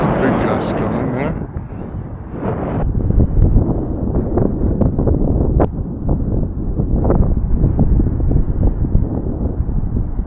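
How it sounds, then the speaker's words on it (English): Strong wind gust buffets the microphone during a flight of a UMX Turbo Timber Evolution model airplane: loud, continuous low rumbling roar with a brief muffled voice at the start. "There's a big gust coming there."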